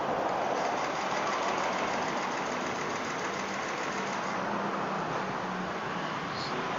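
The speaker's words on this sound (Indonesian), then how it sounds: "Lalu nyalakan motor sampai motor dalam keadaan mati." A motorcycle engine idles steadily at moderate level throughout, with a continuous rough mechanical hum and faint knocking texture; the stall is not clearly evident by the end.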